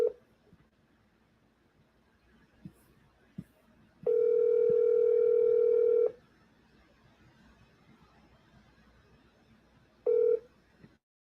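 A phone call rings out with a ringback tone, one long steady two-second tone followed by silence and then the start of a second tone, heard close with faint background noise and no talk.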